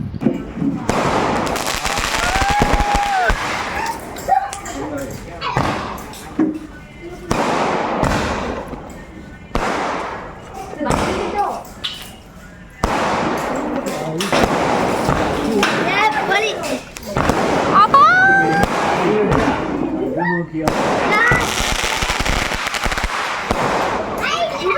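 Firecrackers burst at a celebration, a long run of sharp cracks and popping volleys in irregular clusters, loud and close, with voices talking and calling throughout.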